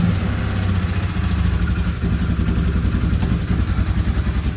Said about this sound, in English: She fires up and runs good.